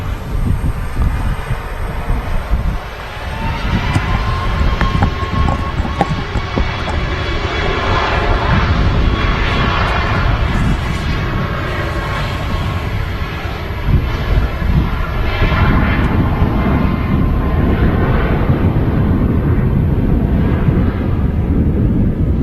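Ryanair Boeing 737 Max departing on the runway at Manchester Airport, a loud sustained jet engine roar with wind buffeting the microphone, steady for over twenty seconds.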